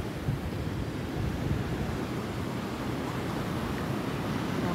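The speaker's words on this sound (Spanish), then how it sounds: "aquí este sector, el mar pega duro" Heavy sea surf pounding a stretch of coastline beside a coastal road near Corinto, Chinandega, heard as a steady, loud, continuous wash of breaking waves with wind buffeting the microphone and no voices.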